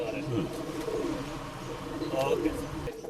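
Rekdhar pigeons kept for sale in Bangalore coo in repeated soft, throaty rolling calls nearby, with a low steady background hum throughout.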